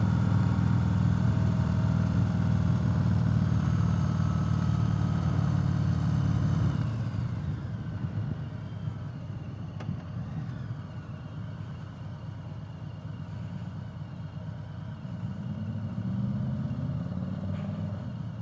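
A 2018 Harley-Davidson Sport Glide motorcycle rides along with a loud, low engine drone that drops off after about seven seconds as the rider eases off, then rumbles more quietly beneath wind noise, rising again near the end.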